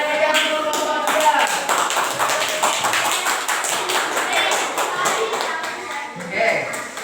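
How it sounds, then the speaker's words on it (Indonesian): A class of students claps for a group, a dense burst of many hands clapping close by that keeps going for several seconds, with voices mixed in. "Kasih tepuk tangan yang meriah untuk kelompok 3."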